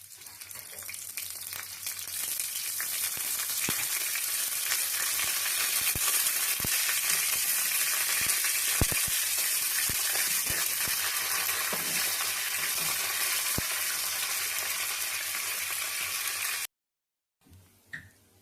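Mustard seeds, dried red chilies and curry leaves fry in hot coconut oil for a South Indian sambar tempering, a loud bright steady sizzle with scattered crackles and pops, cutting off abruptly near the end.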